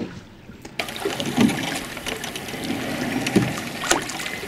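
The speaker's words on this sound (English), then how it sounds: "connecting the slide noise with the placement of the blade" A rowing boat on the water, with the seat sliding and the blade catching. A low rumble of the slide runs under faint splashes and dribbling water, and there are a few sharper knocks and drips near the end.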